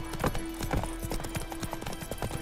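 Clip-clop of Roach, Geralt's horse, trotting in The Witcher 3, with a steady, fairly quick rhythm of hoofbeats at close range and a faint whinny-like tone.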